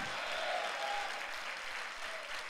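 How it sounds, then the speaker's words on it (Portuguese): A church congregation applauds in praise, a dense sustained wash of many hands clapping that holds steady throughout. "Tem alguém aqui que pode dar um aplauso ao Senhor Jesus?"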